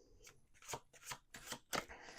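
Tarot cards riffle and slap together in a few quick bursts, close by and soft, with brief pauses between shuffles.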